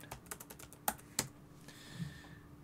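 Quiet typing on a computer keyboard while searching documentation, a handful of soft, close key clicks in an irregular rhythm with two sharper strokes, alone without talk.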